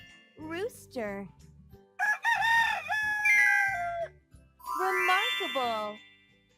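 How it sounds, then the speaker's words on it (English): A rooster crows its full cock-a-doodle-doo call loudly and close, repeated in drawn-out bursts alongside bright chiming tones. "Rooster."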